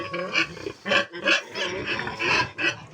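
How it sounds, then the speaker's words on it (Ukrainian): A sow being mated with a boar on a farm gives repeated loud, close grunts and snorts in uneven bursts, with a few harsher squeal-like calls mixed in. "Тому парую зараз свиноматочку."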